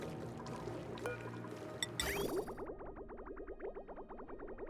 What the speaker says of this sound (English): We're dumping that water out.